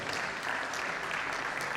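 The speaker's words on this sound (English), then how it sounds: "Please, a round of applause for him." Steady, dense applause from an audience at a college lecture, continuous and fairly loud throughout with no breaks.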